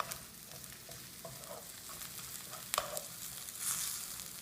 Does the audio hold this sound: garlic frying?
yes